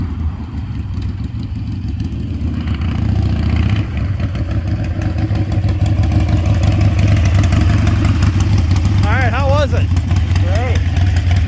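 Harley-Davidson motorcycle idling nearby, a loud continuous low throbbing rumble throughout, with people talking over it.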